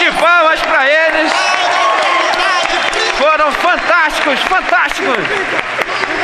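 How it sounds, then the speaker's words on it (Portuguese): A church congregation applauds its performers, a steady wash of clapping that sits beneath a voice and tonal sounds throughout. "uma salva de palmas para eles"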